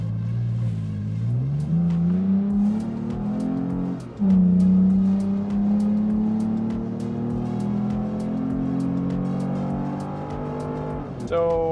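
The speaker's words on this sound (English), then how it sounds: "So up top, really revving this thing out, we got it up to 85 decibels." A Toyota Tacoma with an aftermarket exhaust driven hard, engine climbing through the gears at high revs with loud rising tones and a brief drop between shifts, heard from close by.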